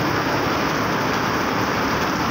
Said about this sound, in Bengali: দেখুন খুব জোরেই বৃষ্টি পড়ছে।